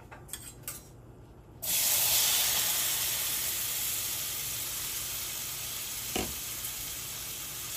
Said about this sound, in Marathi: आणि जसं बटर सगळीकडे पसरलं त्यावरती मी आपले मशरूम्स टाकणार आहे.